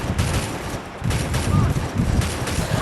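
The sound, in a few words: gunfire in the video game Free Fire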